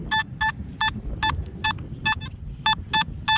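A Nokta Simplex metal detector gives repeated high electronic beeps, about ten short tonal pulses in a quick irregular rhythm, over low wind rumble outdoors in a park.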